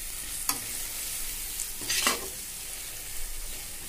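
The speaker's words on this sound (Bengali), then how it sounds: "সমস্ত মশলা খুব ভালো মতো কষিয়ে নিতে হবে" Turmeric and chili powder are sautéed in oil for a taro dal, giving a soft, even sizzle with a few brief spatula scrapes near the start and middle.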